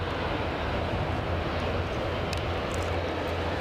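ATR 42 turboprop airliner at Aberdeen airport, a loud, steady propeller and engine drone holding constant throughout, close by and with no voices over it.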